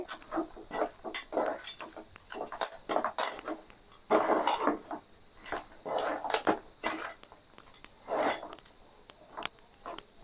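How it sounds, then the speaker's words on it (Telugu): Gongura pulihora rice with chana dal being mixed by hand in a metal vessel, giving irregular close rustling, squishing and occasional clinks against the pot, with no talking. "ఇప్పుడైతే చేతితో కలుపుకోవాలి. చెయ్యి బాగా శుభ్రంగా కడుక్కొని చేతితోటే కలుపుకోవాలి."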